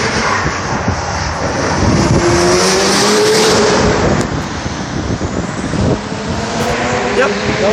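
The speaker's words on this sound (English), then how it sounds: "Yep, that was an Audi prototype practicing for the 24-hour Le Mans race." An Audi prototype race car practicing for the 24-hour Le Mans race, its engine droning loudly with rising and falling pitch under heavy wind buffeting on the microphone.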